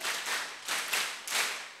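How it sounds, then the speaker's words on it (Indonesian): At a lecture gathering in Temanggung, an audience claps together in a rhythmic sequence of group bursts, crisp and evenly spaced, with no speech over them. "Tepuk 5 kali."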